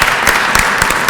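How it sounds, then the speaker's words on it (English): Short burst of audience applause for Ezra at a Jewish American Heritage Month celebration on Capitol Hill, a dense, fairly loud patter of many hands lasting about a second. "Give Ezra a round of applause if you would."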